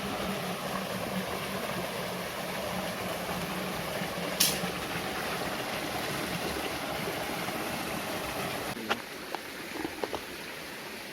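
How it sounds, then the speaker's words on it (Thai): A forest stream's waterfall pours in a steady, even rush that fills the whole span, with a few faint clicks and knocks near the end. "นี่ครับน้ำตกครับ"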